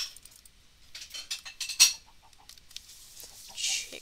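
Chickens in a Minecraft survival game give a string of short, light clucks and squawks, scattered over about four seconds with a brighter burst near the end, fairly close and with no talking.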